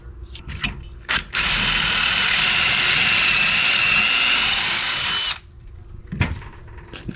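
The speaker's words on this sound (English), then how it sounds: "Then it comes with a special step drill bit we're going to use." A power drill with a step drill bit runs steadily for about four seconds, loud and close, boring through wood, with brief clicks and handling noises before and after.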